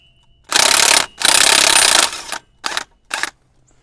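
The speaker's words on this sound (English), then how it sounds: "I'm taking a 35mm socket on this axle nut on my 1/2 inch impact" A 1/2 inch impact wrench with a 35mm socket hammering loose the axle nut on a Chevrolet 2500HD, two long loud rattling bursts followed by two short ones, close up.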